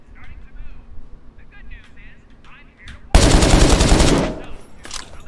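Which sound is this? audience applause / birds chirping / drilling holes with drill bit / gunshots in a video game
gunshots in a video game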